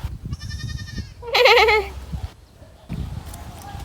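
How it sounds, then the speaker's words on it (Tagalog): A goat bleats twice nearby, a short call followed by a louder, wavering one, with outdoor rumble and faint background noise around it. "Ayan, may kambing."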